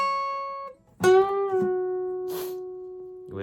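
Electric guitar plays the opening phrase of a solo: sustained notes with a bend and a slide, ringing clearly and alone, with a sharp pick attack midway.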